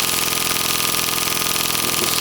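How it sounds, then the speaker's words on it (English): A tiny governed steam engine of unknown make runs at constant speed. It makes a steady, even mechanical whir with rapid regular beats throughout, close and fairly loud. "Very nice little steam engine."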